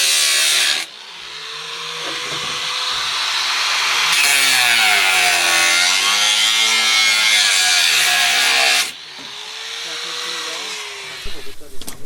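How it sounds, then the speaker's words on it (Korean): An angle grinder cuts through metal while a rocket mass heater is built, a loud sustained whine that rises and falls over several seconds with a short pause between cuts and a voice heard briefly. "그라인더 좀 갖고."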